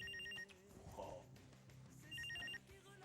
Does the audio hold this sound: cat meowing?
no